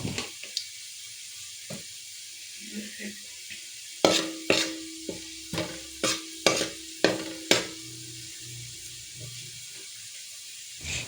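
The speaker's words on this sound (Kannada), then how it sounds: "ಬೆಳ್ಳುಳ್ಳಿ ಫ್ರೈ ಆಗ್ತಾ ಇದ್ದ ಹಾಗೆ ಅದಕ್ಕೆ ಸ್ವಲ್ಪ ಜೀರಿಗೆಯನ್ನು ಹಾಕ್ಕೊಳ್ಬೇಕು" Garlic and cumin seeds frying in a pan for veg fried rice: a faint background sizzle, then a run of about eight rhythmic spatula clacks stirring against the pan.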